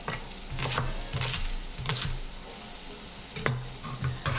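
Chopped leeks go into a hot soup pot and sizzle steadily, with several sharp clatters and scrapes of a spoon stirring against the pot at close range.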